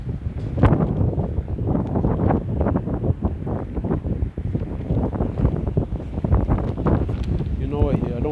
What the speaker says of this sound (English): The wind is blowing too hard.